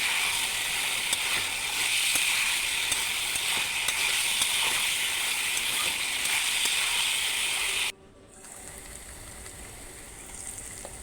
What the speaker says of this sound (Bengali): ভেজে তারপর ভালো করে ভেজে নিলাম।